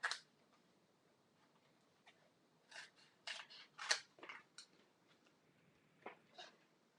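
Scissors snip through a piece of paper for a cardstock craft project, a handful of short, crisp cuts in scattered bursts at close range with quiet pauses between them and no talking.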